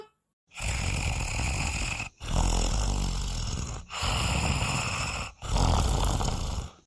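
Four long, loud snores in a steady rhythm, each a rough, rattling breath separated by brief pauses, close to the microphone with no talking.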